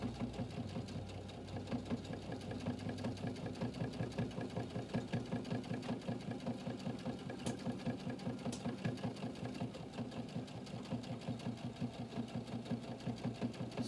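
A sewing machine stitches steadily with the presser foot down, a fast even mechanical chatter of needle strokes running close and continuous throughout, with no talking.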